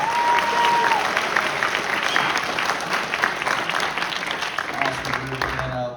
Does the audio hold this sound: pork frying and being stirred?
no